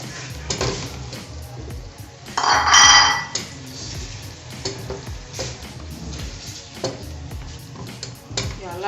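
Yam porridge is stirred in a pot with a spoon scraping and knocking against the sides in irregular strokes, over a steady simmering sizzle, with one louder clattering burst partway through.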